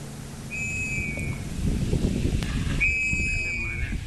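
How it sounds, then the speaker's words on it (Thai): A whistle blown to call hawks in to feed sounds twice in long steady shrill blasts, carrying over outdoor background noise from a jellyfish-viewing boat trip in Songkhla. "ก็จะเป่านกหวีดแบบนี้เรียกเหยี่ยวให้ออกมากินอาหาร"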